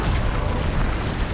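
The Bombarda blasting spell goes off in the game Hogwarts Legacy with a loud, dense explosive boom that fills the whole short moment.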